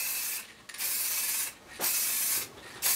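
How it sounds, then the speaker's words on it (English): Gloss varnish sprays onto a reclaimed-wood serving tray in three long, steady hissing bursts of about a second each, separated by brief pauses, close and fairly loud. "I'm using a sprayed gloss varnish to finish the tray"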